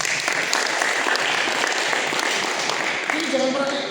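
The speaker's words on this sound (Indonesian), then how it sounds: "Tepuk tangan buat Tuhan Yesus." A church congregation bursts into loud, steady applause for several seconds, with a hint of a voice near the end.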